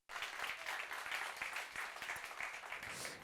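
An audience at an awards ceremony applauds steadily, a soft continuous patter of many hands clapping at a distance.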